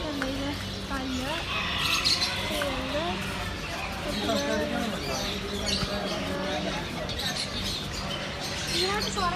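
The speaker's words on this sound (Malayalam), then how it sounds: "ഇതിനകത്ത് കുറെ കിളികളുണ്ട് ഗായ്സ്." Birds in a pet shop give repeated harsh squawks and bending calls from close by, mixed with voices talking and general shop bustle.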